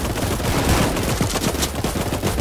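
Towers firing guns in the Roblox game Tower Defense Simulator, a dense, continuous rattle of rapid gunfire that stays loud throughout with no pauses.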